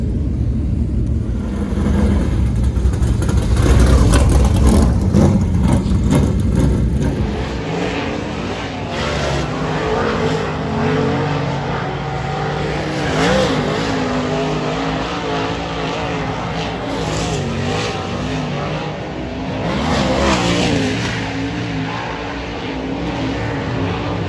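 A race car laps a track during a practice night, its engine revving loudly early on, then settling into a sustained roar with rising and falling pitch as it accelerates through the turns.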